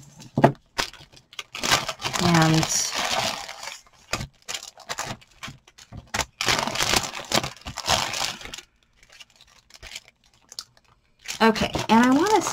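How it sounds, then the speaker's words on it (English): Craft haul packaging from stamp and paper supplies crinkles and rustles up close in irregular crackling bursts and scattered taps, with a person talking intermittently. "Sorry for any rustling."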